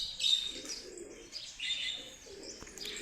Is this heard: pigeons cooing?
yes